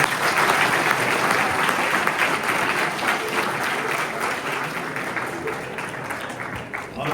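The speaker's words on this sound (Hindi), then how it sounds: "बेटियों के लिए एक बार जरा जोरदार तालियां होनी चाहिए" Loud, sustained applause from a crowd of students at a constitution seminar in Bhopal, dense clapping holding steady for several seconds and tapering slightly toward the end.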